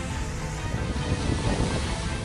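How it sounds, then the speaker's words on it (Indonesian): Huge waves about eight metres high crash onto the south coast beach of Gunung Kidul, a loud continuous roar of surf and churning water with wind, no voices. "Gelombang setinggi 8 meter menerjang kawasan pantai selatan Gunung Kidul Rabu pagi"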